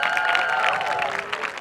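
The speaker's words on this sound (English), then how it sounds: "Let's give a big round of applause." A full audience claps loudly throughout a Bay Area on-stage conversation event, a brief sustained vocal tone riding over the dense clapping.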